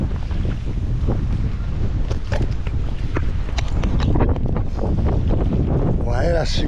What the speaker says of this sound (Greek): Ο αέρας, μιλάμε ότι είναι άλλο πράγμα. Έχει λυσάξει.